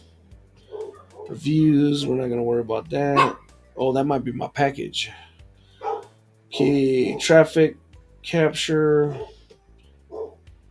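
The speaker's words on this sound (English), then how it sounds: "Dogs are barking." Dogs bark nearby in short, scattered bursts that mix in and out of a voice as he talks indoors.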